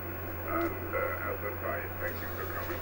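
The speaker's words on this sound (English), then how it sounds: "we've got the radio on, chat going on in the background" A radio plays at a steady low level with indistinct chatter behind it, in a workshop with white noise in the background and no blowers running; the murmur continues unbroken throughout.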